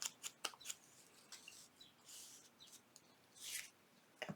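Fabric is cut for a junk journal tag: faint, close snips and light rustles arrive in short scattered bursts against a near-silent room.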